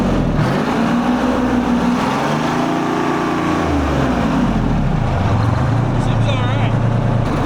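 A car engine is revved a couple of times after a long 250-mile drive, rising and falling in pitch at close range, with people talking over and around it.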